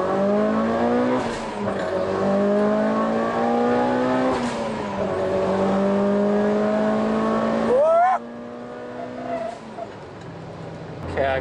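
A Toyota MR-S with new suspension accelerates in fourth gear, its engine note rising steadily in pitch through several long pulls with brief drops, close and fairly loud, with some talking mixed in.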